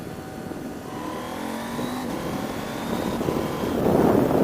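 Engine of a KTM 790 Adventure or BMW F850GS motorcycle, downshifting through the gears with a quick shifter; the revs blip and rise in steps, the engine note growing steadily louder over a few seconds.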